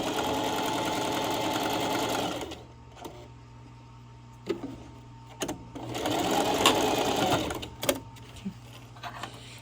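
Sewing machine stitching fabric in bursts, working up from the bottom of the piece: a fast loud mechanical whirr, a quieter pause with scattered clicks and handling, then another long run of stitching.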